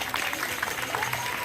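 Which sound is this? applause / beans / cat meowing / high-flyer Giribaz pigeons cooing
applause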